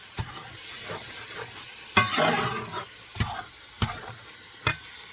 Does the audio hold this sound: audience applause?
no